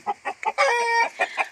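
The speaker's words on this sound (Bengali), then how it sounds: "এই দেখো সব বেবি বেবি মুরগি।" Baby chickens cluck close by on a hot day. Short, quick clucks surround one longer, sustained squawking call in the middle.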